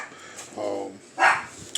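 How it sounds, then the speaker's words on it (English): Dogs barking indoors, a few short separate barks and yips at moderate distance, spaced out over a moment of quiet room noise. "Sorry if you hear dogs. I have dogs."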